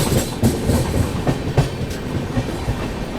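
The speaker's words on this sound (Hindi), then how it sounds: "ये देखो दो ट्रेन एक साथ सेवाग्राम के कर्व पे" Two trains passing together on a curve near Sevagram, heard from aboard a moving express: rhythmic clickety-clack of wheels over rail joints, close and steady, with no talking.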